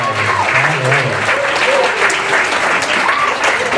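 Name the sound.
audience applause at school concert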